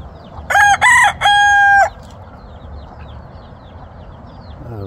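A rooster crows once, loud and close, in a broken cock-a-doodle-doo, and afterwards faint clucking and farmyard noise continue in the background.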